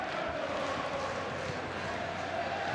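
At Ipswich Town's Portman Road during an FA Cup fourth-round match against Maidstone United, a large football crowd gives off a steady, subdued roar and murmur, continuous and even throughout.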